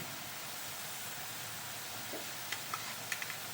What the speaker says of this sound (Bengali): পেঁয়াজটা আমি ব্রাউন করে ভেজে নিয়েছি এবার দিয়ে দেবো এক চামচের মতো রসুন কুচি